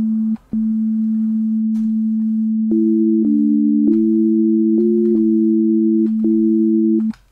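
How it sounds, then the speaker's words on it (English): A pure, steady synthesizer sine tone in LMMS held throughout, with a second higher tone stepping in and shifting pitch in short segments above it; no talking. "This is what a sine wave sounds like."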